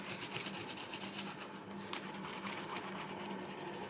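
A watercolor pencil scrapes steadily across a book page in a soft, continuous, close-up rubbing rasp with fine grainy texture and no speech.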